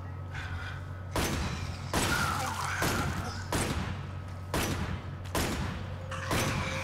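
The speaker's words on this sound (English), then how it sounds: "This is actually a shotgun, guys." Shotgun blasts in a virtual reality shooter game: about seven loud, sharp shots fire in a steady rhythm roughly every second, each ending in a short decaying tail over a low, constant background hum.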